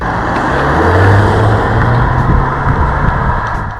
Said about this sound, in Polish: Niewysilony silnik, nawet jeśli odzywa się przy mocniejszym wdepnięciu gazu w podłogę